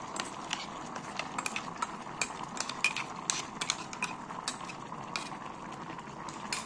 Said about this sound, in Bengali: এটাকে ভালো করে মিশিয়ে নেব পোস্তটাকে আলুর সঙ্গে।